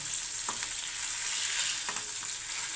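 Parshe fish frying in hot oil gives a steady, loud sizzling hiss, broken by a couple of brief utensil clinks against the pan, with no voices.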